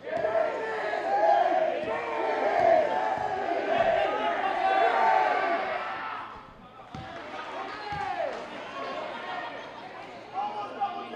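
Loud crowd noise from fans packing a high school boys' basketball game between St. Mary's and Bishop Fenwick, steady cheering and shouting with ball bounces and squeaking, a brief lull, then more chatter under announcer talk.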